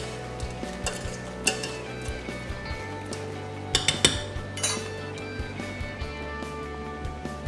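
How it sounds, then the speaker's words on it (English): Chopped vegetables are stirred into a pot of simmering shellfish stock, with a spoon clinking and scraping against the pot in irregular taps over a low, steady background bubble. "give those a stir in just to mix those around"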